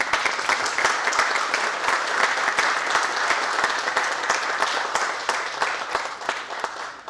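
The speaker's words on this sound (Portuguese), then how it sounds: "Por favor, uma salva de palmas." An audience at a university gathering about the National Museum fire applauds steadily, a dense sustained clapping that holds for several seconds before easing slightly at the end.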